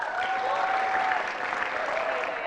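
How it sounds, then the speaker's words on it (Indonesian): Steady applause from a crowd, dense clapping holding at an even level throughout with a faint tonal hum running underneath. "Kita berikan tepuk tangan bagi mereka."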